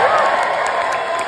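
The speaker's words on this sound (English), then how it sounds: "Let's give a round of applause to our director of this episode, Rick Famuyiwa." Applause and cheering from a crowd, dense and steady, honoring Rick Famuyiwa, director of a Mandalorian Season 3 episode; sustained clapping with scattered whoops throughout.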